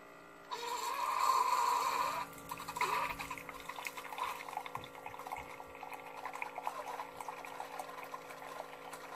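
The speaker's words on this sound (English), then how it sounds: "My most favorite thing in the morning is to just hear my coffee brewing." A Keurig coffee maker brewing a 10-ounce cup starts with a loud hissing, gurgling surge, then settles into steady bubbling and dribbling with small pops, close by and without voices.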